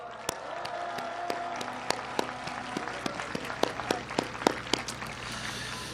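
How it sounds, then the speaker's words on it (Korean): A crowd at an outdoor election campaign rally breaks into scattered, uneven applause, with individual sharp claps standing out over a steady background hum. "힘내시라고 우리 연대의 박수 한번 부탁드립니다."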